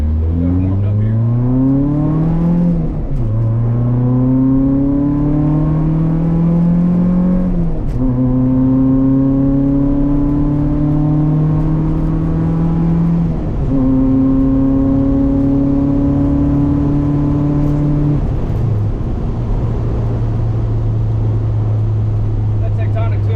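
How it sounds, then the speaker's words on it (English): A 16-valve VW Rabbit GTI drives off, its engine revving loudly and steadily up through several gears with a brief dip at each shift, heard close from inside the car. "Say we go for a drive. Let's see what we can do."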